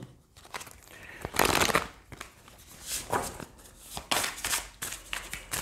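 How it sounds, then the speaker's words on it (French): A deck of Oracle Power of Love cards being shuffled in bursts of close, papery riffling and sliding, with short pauses between handfuls and no voices. "on va tirer quand même d'autres cartes de l'Oracle Power of Love"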